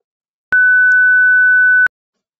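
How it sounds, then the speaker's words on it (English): A single steady electronic beep generated by a Python program on a computer, a pure tone held for just over a second, clean and loud against silence. "Python program to make a beep sound"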